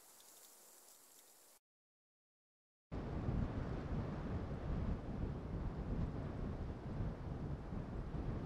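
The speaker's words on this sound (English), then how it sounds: "On top of this, I have two different wind layers." Layered wind ambience from a Unity and Wwise game sound design demo. A faint airy hiss gives way to a brief silence. Then a louder, steady broadband rush of wind begins and continues to the end.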